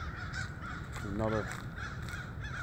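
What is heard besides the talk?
crows cawing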